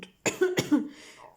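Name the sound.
cough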